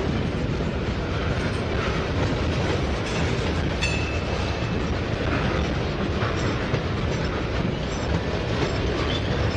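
A Norfolk Southern train rolls steadily past on the rails, a loud, continuous rumble with clickety-clack wheel noise and a brief high squeal near the middle, with no voices.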